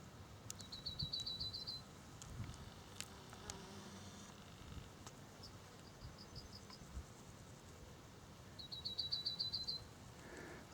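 An unidentified bird in a countryside hedge gives short, high, rapid trilling phrases, three bursts spaced apart, fairly faint over quiet outdoor background with scattered small clicks.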